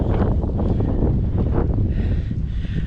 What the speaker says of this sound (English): How windy it is, I guess.